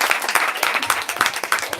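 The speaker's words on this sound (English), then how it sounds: "Please give another round of applause to Isaac and Emily." Audience applause at a book event for Isaac Fitzgerald and novelist Emily St. John Mandel, a steady patter of many hands clapping throughout, moderately loud with no talk.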